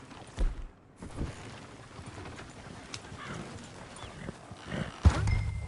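Galloping horses in a PS4 video game, with hoofbeats clopping rapidly and loudly up close, heavy thumps coming in bursts amid game ambience, with no talking over them.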